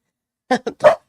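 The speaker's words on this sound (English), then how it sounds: "my dogs bark obnoxiously" Dogs bark nearby in three quick, loud bursts after a moment of silence, the last bark the longest.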